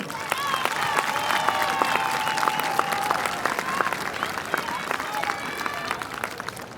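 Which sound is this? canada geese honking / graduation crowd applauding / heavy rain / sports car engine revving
graduation crowd applauding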